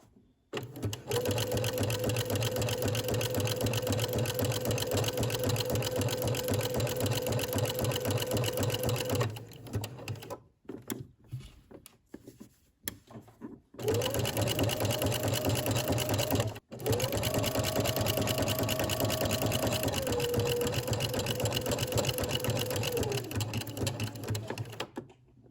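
A sewing machine runs in long steady stitching bursts while sewing a Simplicity 8874 maxi dress, pausing briefly in the middle and again for a short back stitch before carrying on, loud and close with no talk.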